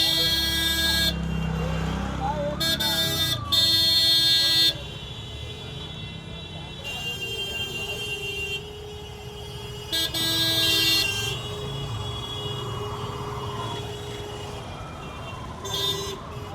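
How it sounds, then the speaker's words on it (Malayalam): Car horns honk repeatedly in congested traffic near Humayun's Tomb, a family vehicle among them, with several short and longer blasts over steady road noise while people talk throughout. "എന്നിട്ടും കിടന്ന് ഹോൺ അടിക്കും."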